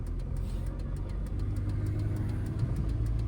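A car engine in a driving lesson hums steadily and close as the driver lightly presses the accelerator, a low even drone with a faint rhythmic knock and almost no change in level.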